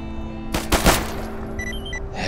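Gunfire from a weapon in the video game Stalker GAMMA: two loud close shots in quick succession with a ringing tail, then a steady hum of game ambience and faint electronic beeps.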